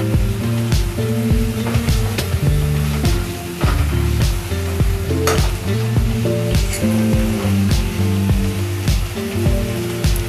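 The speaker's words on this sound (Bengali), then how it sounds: "এইবার আমি এই মশলাটার সাথে আলুটা কষাচ্ছি" Potato pieces sizzle steadily in hot oil with spice paste as they are stir-fried for a vegetarian aloo paneer, with occasional clinks of a utensil against the pan underneath continuous background music.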